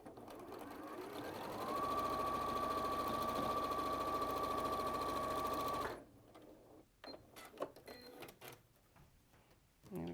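A sewing machine runs steadily for about four seconds while stitching a quarter-inch seam, then stops, followed by quieter handling and faint rustling.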